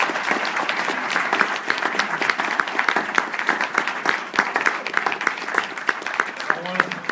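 A crowd at a city mayoral candidate forum gives a sustained round of applause, dense steady clapping throughout, with faint voices mixed in beneath it.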